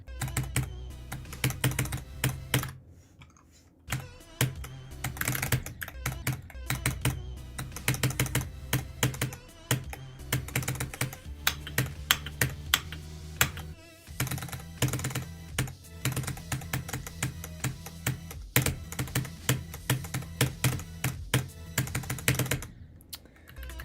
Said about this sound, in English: I'm clicking as fast as I can